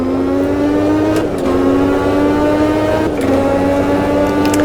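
A Brabham racing car in a classic 1989 Formula One game, its engine droning loud and steady at high revs, with the pitch easing slightly at each gear change.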